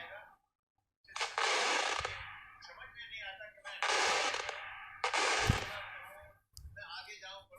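Firecrackers set off outdoors for New Year's, going off in four loud, close bursts of rapid crackling pops separated by brief pauses.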